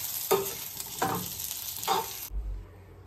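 Sesame seeds and green tomatoes sauté in a pan for a green tomato chutney: a close hiss of frying with three distinct stirring scrapes, then the sizzle cuts away abruptly near the end.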